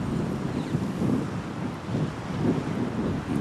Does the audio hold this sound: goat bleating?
no